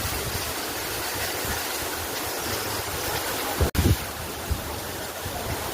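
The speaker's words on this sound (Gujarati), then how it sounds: "આ પાણી પડી રહ્યું છે." Shankar waterfall pours steadily with a broad, constant roar of falling water heard from a distance, interrupted briefly by a handling thump near the middle.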